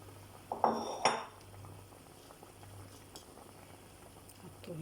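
Chopped fennel tipped into a couscous pot of onions: a couple of sharp clattering bursts of pieces and utensil hitting the pot early on, then a low steady simmer and faint background hum.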